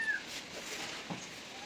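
A pet cat at home lets out a short meow, fairly close, with a faint steady background beneath it.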